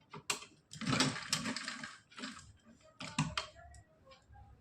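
Sewing machine stitching net and lace fabric for a dress, running in short mechanical bursts with brief pauses between runs, close and moderately loud.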